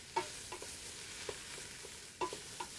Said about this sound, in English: you need to keep those onions stirred